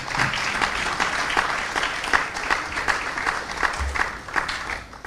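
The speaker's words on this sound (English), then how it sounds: "I think you can clap" Audience applause at a Ghanaian television business show, a dense, steady clatter of many hands clapping throughout, fairly close and even in loudness from start to finish.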